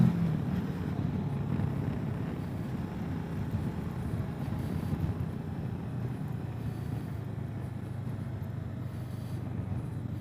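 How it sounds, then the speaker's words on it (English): A 2021 Kawasaki Versys 650 motorcycle engine drones steadily while riding, a low continuous rumble under heavy wind buffeting that stays even throughout without pause. "There's the engine."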